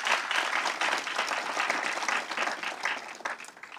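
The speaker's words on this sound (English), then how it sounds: "That deserve a round of applause." A round of applause rises from the audience at a governor-general's installation ceremony in St. Kitts and Nevis, a dense, steady patter of many hands clapping throughout, with no voices on top.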